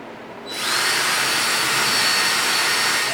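A drill fitted with a big bit grinds through garage drywall, spinning up after a short pause into a steady, loud, close whine that holds for a few seconds with no voices.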